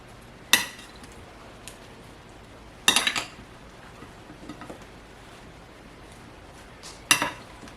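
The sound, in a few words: stirring cucumber salad in a bowl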